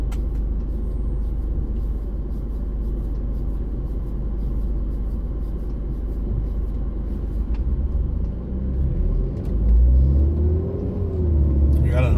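A car driving along Alton Road in Irvine, California, gives a steady low interior road rumble and engine drone with a slight rise near the end, and a person talks over it.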